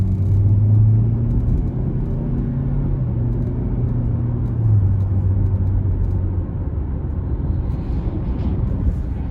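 The 1.5-litre turbo engine of a 2022 GMC Terrain SLT front-wheel drive hums as a steady, moderately loud cabin drone under hard acceleration, with no talking.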